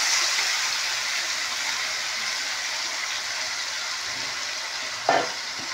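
About a kilo of chicken frying in a hot pan, a loud, steady, close sizzle running throughout with one brief clatter near the end, no talking.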